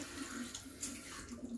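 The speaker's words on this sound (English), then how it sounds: "I like to run a blank shot. So that's a shot of hot water without any coffee in the handle" Hot water runs from the group head of a Rancilio Silvia espresso machine with no coffee in the portafilter, a faint steady trickle and hiss under a low machine hum, heard close with no talking.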